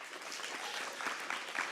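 Applause from an audience at a Welsh Labour party conference, a steady wash of many hands clapping at moderate distance, fairly soft and continuous with no talk over it.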